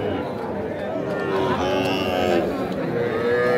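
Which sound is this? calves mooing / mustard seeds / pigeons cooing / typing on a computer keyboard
calves mooing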